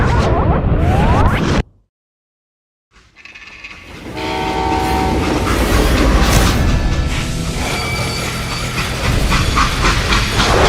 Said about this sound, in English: They hopped a freight train having heard there was a big payroll in the express safe.